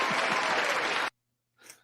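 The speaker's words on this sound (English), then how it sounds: "So let's get some applause for our main man, George Dimitropoulos." An audience applauds in a burst of close, dense clapping that cuts off abruptly into silence, followed by a short faint trailing sound.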